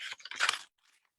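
Paper torn by hand into a small ladybird shape, a quick run of dry crackling rips close up, loudest midway, then a faint rustle before it stops.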